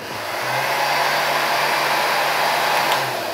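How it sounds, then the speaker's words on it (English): A heat gun runs alongside equipment drawing power from a 48V or 51.2V server-rack battery, giving a steady, loud fan-driven roar that ramps up at the start and stays even throughout, with no talking. "Okay, I'll turn on the heat gun too."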